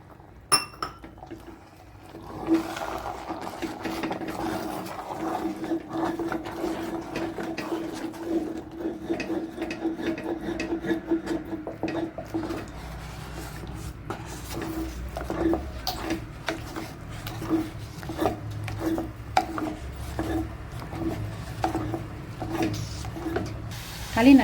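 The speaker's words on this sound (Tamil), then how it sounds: "மரக்கரண்டி தான் கிண்டுறதுக்கு ஈஸியாக இருக்கும் நம்மளுக்கு." A wooden spoon stirs thick urad dal kali in a pan, giving continuous soft scraping, clinking and wet squelching sounds at steady, close range with no speech.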